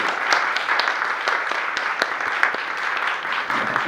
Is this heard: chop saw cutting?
no